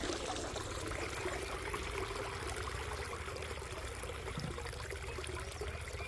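Water drains out of a pool cleaner in a continuous rushing, gurgling stream, steady and fairly loud throughout with no pauses.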